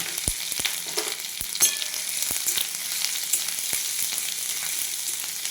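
Grated ginger, cumin seeds and chopped green chilli sizzle in hot oil in a kadai, a steady bright crackle with occasional sharp pops and utensil taps, close and continuous, no talking.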